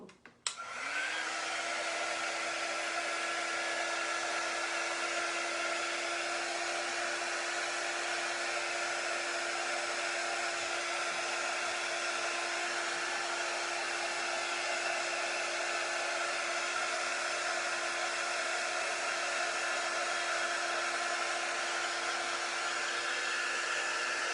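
A hair dryer switches on and then roars steadily at close range for over twenty seconds, drying a freshly rinsed item, with a loud, even whoosh and no speech.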